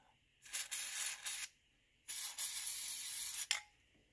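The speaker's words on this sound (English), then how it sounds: "You just want to spray this stuff up here," An aerosol can of lubricant sprays onto a car window guide in two close hissing bursts, each about a second long, with short nozzle sputters in between and a sharp click at the end.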